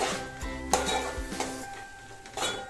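Capsicum cooking in a pan for street-style pav bhaji, with a utensil stirring and scraping against the metal in a few distinct strokes over a soft background sizzle, close up and with no voices.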